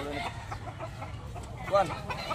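A Talisayon gamefowl rooster, a 26-month-old breeding cock, gives a few short clucks close by, with a low murmur of background voices underneath.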